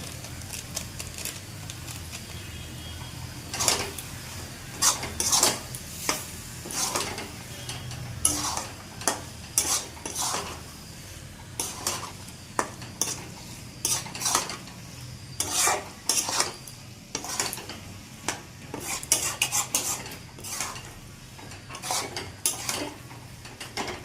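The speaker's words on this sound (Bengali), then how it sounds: "এখন গরম মশলা দিয়ে নাড়া দিয়ে নামিয়ে ফেলবো" A spoon scrapes and clatters steadily against a pan while vegetarian cabbage curry cooked with peanuts and garam masala is stirred, with repeated metallic knocks over a faint sizzle and no talking.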